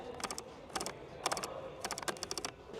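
Switches in an 18-year-old Mercedes C200 being pressed close to the microphone, a quiet run of crisp tactile clicks in small bursts with brief pauses between them.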